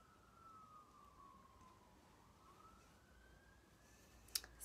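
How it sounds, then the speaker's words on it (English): Police car siren outside, faint and distant, sweeping slowly down and then back up in pitch as it passes beyond a quiet room, with a couple of brief clicks near the end. "Still waiting for the police car to go."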